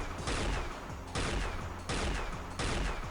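Rapid automatic gunfire from the Unreal Tournament video game, arriving in four loud sustained bursts separated by brief gaps, with no talking over it.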